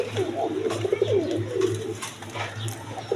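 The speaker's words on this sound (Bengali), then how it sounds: "দর্শকবৃন্দ এখানে এক পেয়ার ইন্ডিয়ান কবুতর আছে, বোম্বাই, ইন্ডিয়ান বোম্বাই" Pair of red Indian Bombay pigeons with large crests cooing in soft repeated bursts, close by, with faint background noise and no talking.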